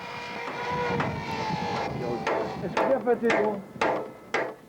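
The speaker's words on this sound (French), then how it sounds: "6 coups de marteau qui vont faire beaucoup de bruit." At a fuel refuelling stop during the 1995 Granada–Dakar rally, a series of sharp, loud hammer blows rings out in quick succession over a steady background rumble.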